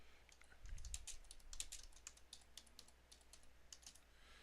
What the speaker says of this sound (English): let me just type in here